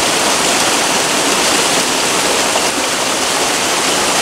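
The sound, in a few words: waterfalls and flowing water on a volcano trail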